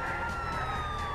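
Police car sirens in the video game GTA IV, a steady electronic wail that holds at a constant loud level through the short clip with no talk over it.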